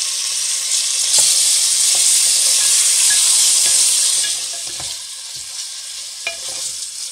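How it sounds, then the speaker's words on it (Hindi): Chicken pieces frying in a hot pan for badami (almond) chicken: a loud, close, dense sizzle that swells, holds for a few seconds, then eases to a softer crackle with light stirring taps and no voices. "ज़रा सा इसको फ्राई करने के बाद अब मैं इसमें ये सारा चिकन डाल दूंगी"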